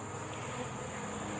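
Honeybees hum at their hive in winter, a steady low buzzing drone that stays even and fairly faint throughout, with no talking over it.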